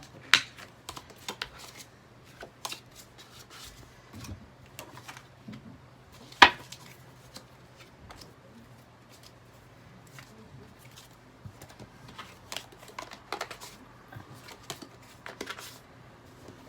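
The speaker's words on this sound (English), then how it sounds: "One more shuffle." A deck of tarot cards being shuffled, heard as faint, sparse riffles and light clicks and taps scattered over a low steady hum, quiet and close.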